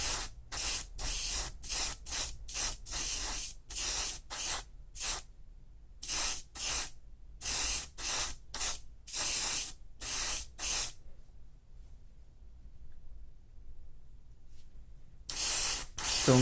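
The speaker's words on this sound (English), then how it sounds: "I'm spraying until wet." Candy metallic paint hisses from an aerosol can onto a spoon used for Gunpla and scale-model testing, in a rapid series of short close bursts, then a pause of near silence before spraying resumes.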